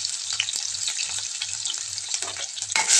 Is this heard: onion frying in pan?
yes